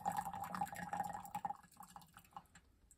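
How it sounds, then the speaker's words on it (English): Tea from a Yixing clay teapot drips and trickles during a pour, a soft continuous patter of small liquid drops, close and quiet, with no talking. "if I really pour, you'll see how much that's dripping right there"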